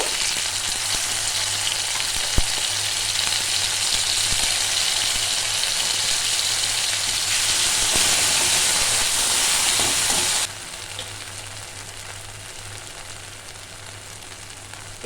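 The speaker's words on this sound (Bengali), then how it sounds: "এবার যেই পেস্টটা আমি বানিয়ে রেখেছিলাম সেইটা একটু আমি ভেজে নেব।" Spice paste for a thin bata fish curry fries in a pan with a steady, close, hissing sizzle that carries on without a break, then drops to a quieter sizzle for the last few seconds.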